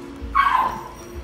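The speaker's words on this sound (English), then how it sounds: "Oh crap, my dogs are going crazy." Pet dogs bark and yip indoors in a single short, moderately loud burst behind a computer game session, with no talk over it.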